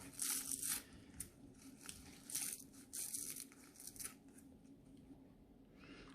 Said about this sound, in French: je vais reciseler mon persil